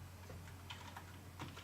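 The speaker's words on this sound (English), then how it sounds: "if you go to this terminal here, I think if you type sudo shutdown" A few quiet keystrokes are tapped out on a computer keyboard at a pinball repair terminal, soft clicks spaced irregularly over a low steady hum, with no talking.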